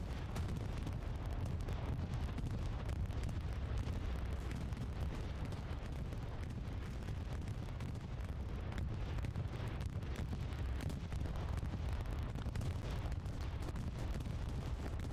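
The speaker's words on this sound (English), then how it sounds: "Here comes a bombing run." Bombing run in the World War II shooter Hell Let Loose: a continuous deep rumble of distant explosions and blasts, dense and steady at moderate loudness with no clear individual bangs and no talk.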